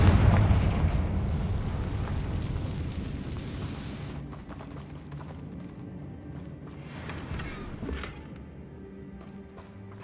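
Fiery Confringo spell blasts in Hogwarts Legacy, fought against Ranrock's loyalists, start with a loud booming burst and roll into a sustained rumbling, crackling barrage that fades somewhat, with scattered sharper impacts near the end.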